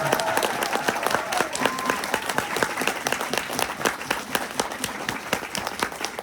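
Sustained audience applause fills a hall: dense, loud, continuous clapping from a large crowd, with a faint murmur of voices beneath it.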